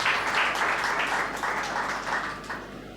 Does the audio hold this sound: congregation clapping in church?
yes